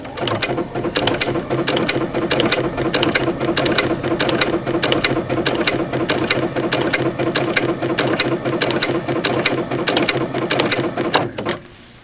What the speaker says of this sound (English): And now I want to stitch diagonally back.